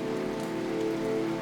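Heavy rain falls on a campus as a dense, continuous hiss with steady drumming, unbroken and fairly loud throughout, with no voices.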